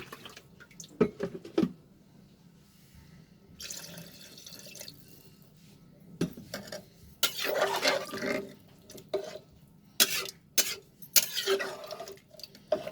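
About two cups of water are poured into a pot of moong dal chicken curry in several close pours and splashes with drips and short gaps between them, and no talking.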